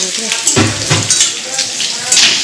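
Vegetarian food frying in a home kitchen for Lakshmi Puja, a steady close sizzle with a few clinks and stirring scrapes of a pan.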